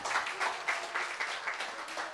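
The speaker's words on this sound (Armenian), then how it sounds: "Եկեք ավելի ջերմ Հիսուսին տանք բոլոր ծափ ողջունները" A church congregation applauds together, a steady dense patter of many hands clapping at moderate distance, continuous and unbroken for a couple of seconds.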